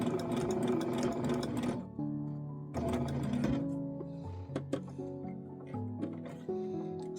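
A sewing machine stitches a beginner's lotus flower quilt block, its fast mechanical hum running in bursts with brief pauses as the fabric is turned, loud and close with no talk over it.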